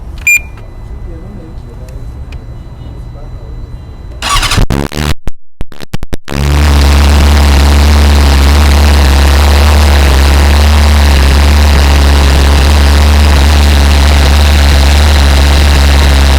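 A 2025 BMW S 1000 RR sportbike engine cranks and catches after a few seconds of voices, then settles into a loud, steady, rumbling idle close by.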